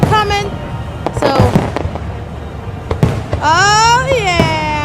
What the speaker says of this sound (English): We're supposed to look at the fireworks every single time.